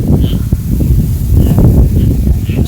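Strong night wind stirs the leaves of trees where birds roost, producing a low, blustery rustle and rumble that swells and eases in gusts close to the microphone.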